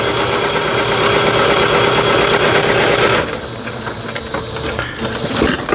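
A Singer household sewing machine, freshly repaired, runs steadily through zigzag, three-step and overlock decorative stitches, a loud close continuous motor whir with rapid needle chatter that briefly shifts pace partway through.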